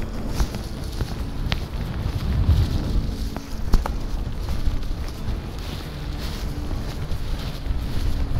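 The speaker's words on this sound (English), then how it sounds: "Hopefully I'm not getting too much wind in this little microphone." Gusty wind buffets a small microphone on a sunny, very windy day, a continuous low roar with rumbling bursts and a few faint knocks.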